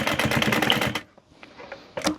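A sewing machine stitching a handbag closed runs in a quick rhythmic burst of needle strokes for about a second, then stops, leaving quiet handling noises before a short second burst.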